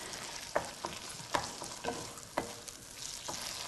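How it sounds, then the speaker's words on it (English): Pancetta frying in a pan for a Tuscan bean soup, a steady soft sizzle broken by a few sharp stirring or spatula scrapes at regular intervals, close and moderately quiet with no talk. "We just leave that for a few minutes just to fry."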